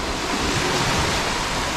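Sea waves rush and crash continuously, a dense roaring surf with no voices.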